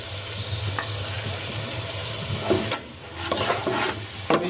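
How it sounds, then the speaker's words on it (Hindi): Onions frying in about half a large cup of cooking oil give a close crackling sizzle, punctuated by several scraping and knocking stirs of a utensil against the pan, with no voices. "अभी इसकी हम कुछ देर अच्छे से भुनाई कर लेंगे।"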